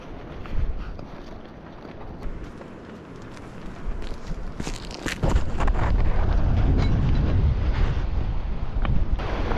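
Strong wind buffets the microphone on a hike beside the water on an island, a rough, heavy rumble that swells and stays loud through the second half, with faint rustling and footsteps beneath.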